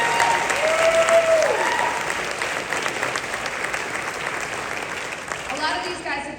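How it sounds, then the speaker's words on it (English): An audience at a jazz ensemble concert breaks into hearty applause, loud at first and then settling into a steady clapping, with a few voices and whoops mixed in. "So let's give a round of applause to this"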